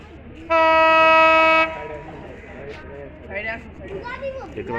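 Banglabandha Express, a train with white coaches, pulls into a station and gives a loud, sustained horn blast, then rumbles on as a voice talks nearby.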